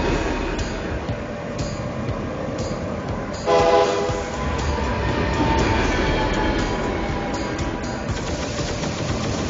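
Trains passing in the Sine Mora shoot-'em-up video game, a loud horn blast sounding midway over a dense, clattering rush of game effects and rumble.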